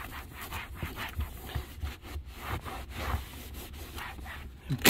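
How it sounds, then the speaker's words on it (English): A cloth buffs cleaner off a classic car's interior panel in quick, close back-and-forth rubbing strokes that come in a steady rhythm, with no talking. "I'm gonna go ahead and just give her a buff."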